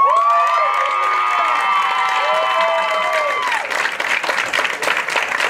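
Audience at a 2015 Milton Union high school commencement applauding and cheering after a graduate's name is read, with bright whoops and shouts over steady clapping that grows denser and noisier toward the end.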